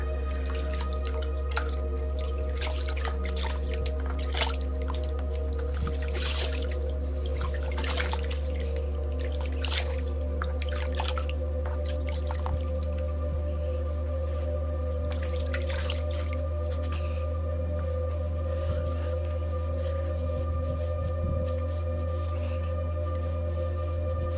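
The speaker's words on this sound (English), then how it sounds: "Just gonna rinse that off here real quick." Water running and dripping into a bathroom sink during a nightly rinse, a continuous splashing trickle with scattered sharper drips, close and steady over a low background hum, with no talk.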